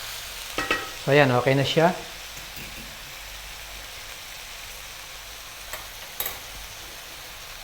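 Ground pork frying in a pan is stirred briefly, a soft scraping and sizzle under a short burst of speech, then quieter low frying noise with a couple of faint clinks.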